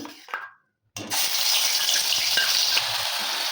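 Onion paste hits hot white oil in a wok for Mughlai paratha. After a short quiet gap it erupts into a loud, steady, close sizzle that runs on unbroken to the end.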